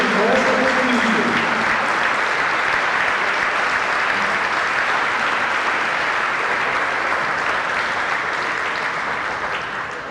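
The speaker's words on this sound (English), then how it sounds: "Please join me in giving Coach Yates a big round of applause" Applause from the crowd at an all-star girls' basketball event is loud and dense, sustained for about ten seconds and tapering slightly at the end, with a brief voice at the start.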